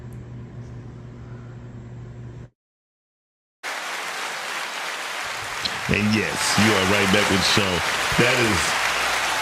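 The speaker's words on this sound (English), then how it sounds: "That's grease frying with chicken." Chicken frying in hot grease in a home kitchen gives a steady, dense sizzle after a brief silence, with someone talking over it.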